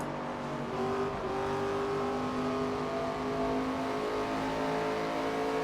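Race car engines in the NASCAR 25 video game drone steadily at high revs, layered pitched whines from several cars shifting slightly as they run close together on track, loud and continuous with no talk.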